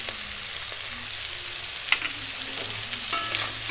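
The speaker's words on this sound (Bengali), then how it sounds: "এবার কড়াইতে আর একটু সাদা তেল দিয়ে চিংড়ি মাছটা ভেজে নেব।" Prawns frying in white oil in a wok, a steady close sizzle and crackle with occasional sharp spits and the scrape of a stirring utensil, no voices.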